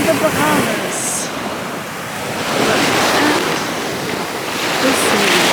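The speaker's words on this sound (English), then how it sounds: "Look at the sea." Sea waves wash onto the shore at George Town in the Bahamas, a steady roaring surf that swells and eases, with wind buffeting the microphone and faint voices in the background.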